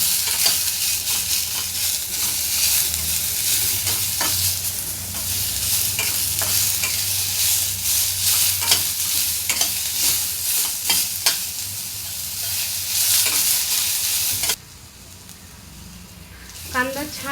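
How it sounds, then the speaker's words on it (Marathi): Sliced onions for a chicken gravy frying in a pan, with a loud, steady sizzle and frequent scraping stirs close by that stop abruptly near the end. Speech is audible in the background. "कांदा छान भाजून झालेला आहे."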